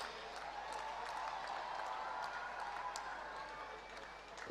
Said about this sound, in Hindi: ये तालियां रुक क्यों गई हैं भाई?